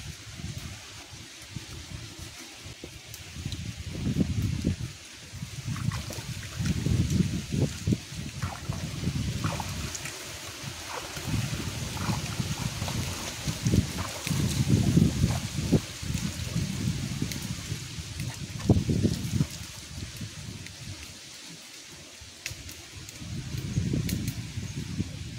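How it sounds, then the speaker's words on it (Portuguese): Gusty wind buffets and rustles outdoors by the Araguaia River in summer, rising and falling in waves with low rumbling bursts; no clear voices over it. "Tá ventando muito, né?"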